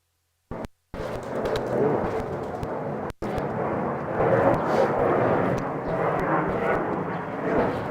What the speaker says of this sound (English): I'm beginning to understand those airplanes are pretty noisy.